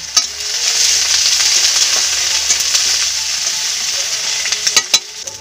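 Onion paste and ginger paste frying in a pan, as for a banana-flower and prawn dish: a loud, close, bright sizzle that runs steadily and ends in a few sharp spatula knocks and scrapes, with no voices.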